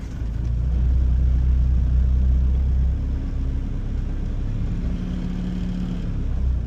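A 1996 Honda Civic hatchback with a swapped JDM B20B engine catches and settles into a loud, close idle, with a strong rumble at first that eases into a steady, even hum.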